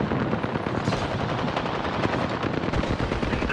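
Rapid automatic gunfire from an Apex Legends firefight rattles continuously and loudly, bursts overlapping densely with no pauses throughout.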